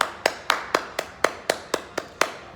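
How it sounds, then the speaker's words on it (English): Nine sharp hand claps in a steady, evenly spaced rhythm, close and fairly loud, with no talking between them. "I'm gonna do my shady Candy Birds clap."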